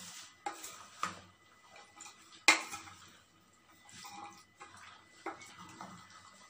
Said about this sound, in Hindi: अब हम इन सब को मिक्स कर लेंगे अच्छे से।